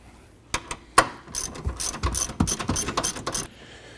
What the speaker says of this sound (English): you can grab the ratchet with the 18mm socket and tighten them up